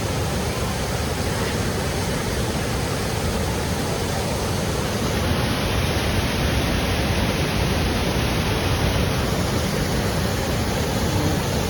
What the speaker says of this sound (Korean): 이 폭포에 흐르는 물 때문에, 물보라 때문에, 여기 지금 비가 내리는 것처럼 이렇게 막 내리고 있습니다